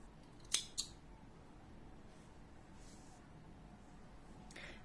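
Scissors snipping crochet thread, two quick close snips early on, then quiet room tone with a faint rustle near the end.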